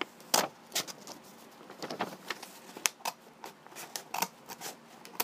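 Scissors cutting through T-shirt fabric, a run of short crisp snips and rustles in an irregular rhythm, close and fairly loud, with no talking.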